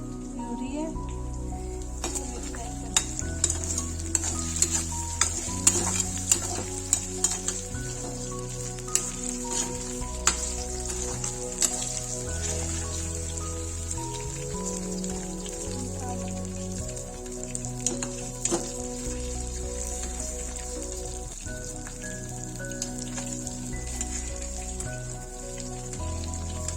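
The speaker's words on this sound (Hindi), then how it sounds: "ये फ्राई कर रही हूँ" Soy chunks with capsicum and onion sizzling and crackling steadily in a hot oil pan, a continuous hiss with scattered pops, with someone talking over it at times.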